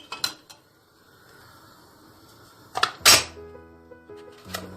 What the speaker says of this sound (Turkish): Ve tenceremin kapağını kapatıp